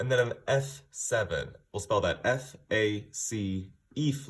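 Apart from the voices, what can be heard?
None of the usual background noises is heard.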